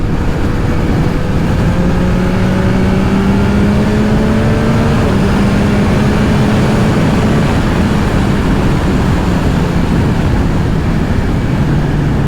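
A 2022 Yamaha MT-09 SP motorcycle cruises along a country road, its engine droning steadily and loudly with a smooth, shifting pitch under constant wind rush, and no voices.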